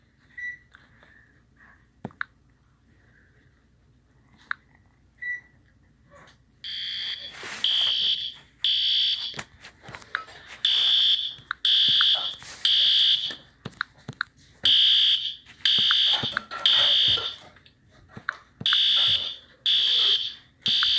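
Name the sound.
fire alarm ringing in a school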